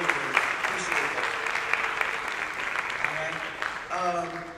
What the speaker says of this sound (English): So give him another round of applause for that.